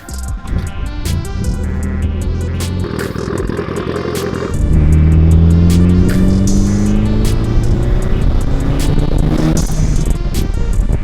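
A Mitsubishi Evo X makes a wide-open-throttle pull in third gear from 2,500 to 5,000 RPM. The engine note climbs loudly and steadily after a brief lower drone, heard close from inside the car with clicking and whooshing from the turbo.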